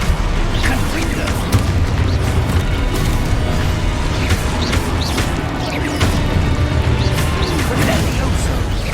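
Explosive Confringo spell blasts in the video game Hogwarts Legacy, with repeated booming impacts and crashes over a constant loud rumbling battle mix, while voices call out throughout.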